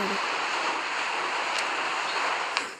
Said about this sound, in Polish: Tam wiatr, wiatr.